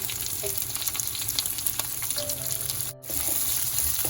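Green chillies with small and large onions frying in oil with salt for a vegetable lunch, a continuous close sizzle with light stirring scrapes and a brief dropout near the end, no talk.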